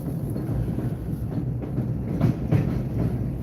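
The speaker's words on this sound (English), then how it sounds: "that's actually the subway right above us right now" A New York subway train rumbles overhead, a steady low roar with faint rhythmic clatter that continues throughout, heard from below street level with no one speaking.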